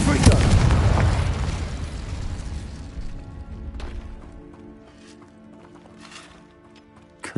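A fire spell in the Hogwarts Legacy video game sets off a loud booming explosion that rolls and fades over several seconds, followed by quieter game sounds.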